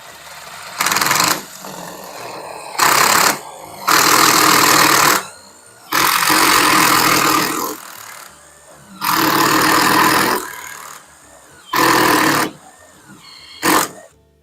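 A power drill boring a half-inch hole through wood in a workshop, heard as six or seven loud bursts of a second or two each, separated by short pauses, close up with no talking.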